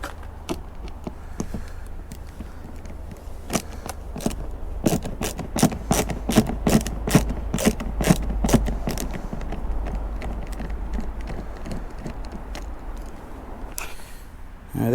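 Socket wrench ratcheting in repeated bursts of clicks while side pieces are unbolted from a seat in a 2004 Jaguar XKR, close and fairly loud with brief pauses between runs.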